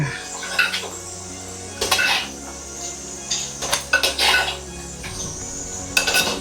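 Country chicken coated in chili powder is stirred in a pan. A spoon clinks and scrapes against the metal in intermittent bursts, close and clear, with no talking.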